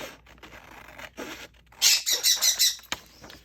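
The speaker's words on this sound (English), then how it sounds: "I really wish she'd come get her bird." A pet bird indoors gives a burst of loud, shrill squawks in a rapid run of five or six calls, with quieter household rustling and scraping before it.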